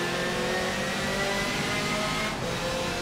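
A BMW touring car's engine drones and revs steadily in Forza Motorsport 7, a constant mid-pitched racing note held at close range with a brief dip near the end, no talk over it.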